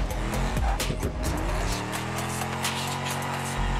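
Engine roar with long, wavering tire squeals as a car slides through a drift, loud and continuous for several seconds.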